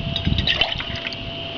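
Water pours into a GSI Soloist cooking pot for a camp meal, a short close gurgling fill that tapers off into quiet.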